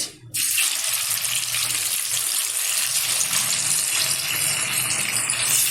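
Stingray fish pieces frying in hot oil give a steady, loud broadband sizzle that starts abruptly and continues evenly throughout, with no voices.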